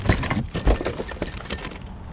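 A glass cup clinks and shatters while dumpster finds are sorted, a quick run of sharp crunches and rattles close up, followed by scattered clinking as pieces and bags shift.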